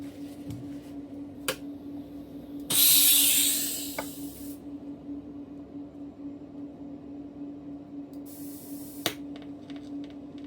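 TIG welding on new stainless steel fittings for a TVR Chimaera turbo manifold gives two bursts of close, bright hissing, a longer one and a shorter one, over a steady low hum, with scattered faint clicks and no talk.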